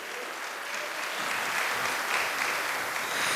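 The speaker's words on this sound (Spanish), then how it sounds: "Dele palmas al Señor." A church congregation claps their hands in steady, dense applause, swelling slightly louder over the few seconds with no talk over it.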